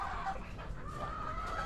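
Pet chickens clucking softly and continuously at close range, a low murmuring cluck over a steady background hum.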